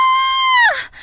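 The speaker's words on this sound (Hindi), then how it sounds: "किसी औरत के चिल्लाने की आवाज आती है" A woman screams at night, one loud, close, sustained high cry that wavers and falls away sharply at the end.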